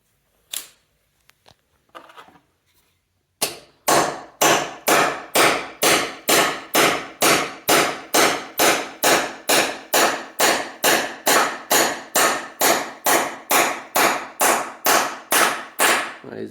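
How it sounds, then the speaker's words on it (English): A hammer taps a Helmsdale scissor lift part into its seat, about twenty-five sharp, loud strikes in a steady, even rhythm after a few quiet knocks at the start. "So let's keep tapping it until it reaches the end."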